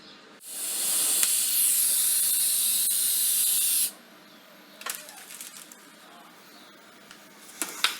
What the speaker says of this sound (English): I'm going to just weld that up,